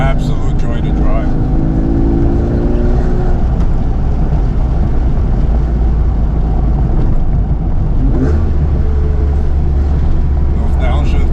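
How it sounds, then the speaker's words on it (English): Exhaust of a 996 Porsche 911 Carrera 4S with high-flow catalytic converters and an X-pipe, loud in-cabin engine drone with rev changes through downshifts, one sharp rise and fall late on. "Those downshifts is what I live for."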